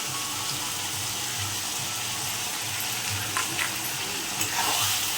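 Ginger, chili paste and ground coriander sizzle and fry steadily in a pan while being stirred, a continuous near hiss with soft scraping strokes and no voices.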